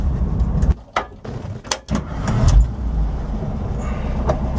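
A 1967 21-window Volkswagen bus on a test drive, its engine running steadily up close with a few sharp knocks and rattles early on, then a continuous loud drone.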